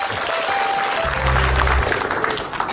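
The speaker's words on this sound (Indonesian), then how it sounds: "Terima kasih ya, tepuk tangan." Studio audience applause on an Indonesian television comedy show, a dense, loud burst of clapping filling the whole moment, with a low hum swelling partway through.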